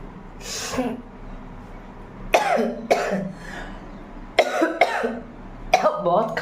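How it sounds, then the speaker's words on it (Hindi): Person with a cold and cough coughing repeatedly in sharp, rasping bursts, several separate fits spread through the stretch, close and moderately loud with some breathy sniffles between. "बहुत खांसी और सर्दी दोनों हो गई है"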